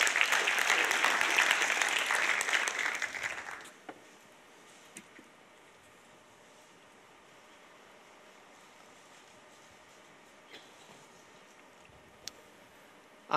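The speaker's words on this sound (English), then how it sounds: "Let's give him a big round of applause, Antonio Garcia." An audience applauds to welcome a speaker, loud dense clapping that lasts a few seconds and then dies away, leaving a quiet room with only a few faint knocks.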